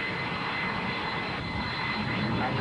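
Mirage jet fighter in flight during a supersonic sortie, a steady broadband roar of engine and airflow that stays loud and unbroken throughout, with no voices.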